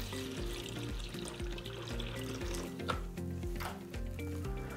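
Water poured from a container into the hopper of a machine on first use, a steady gurgling stream that runs continuously for several seconds at moderate, close level with no voices.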